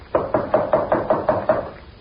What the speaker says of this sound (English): there came a knock on the door